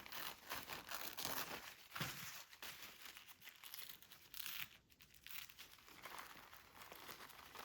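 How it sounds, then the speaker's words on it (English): A paper napkin torn by hand along its rows, quiet close-up crinkling and ripping in short uneven bursts with brief pauses between tears. "rip around just the rows the best I can"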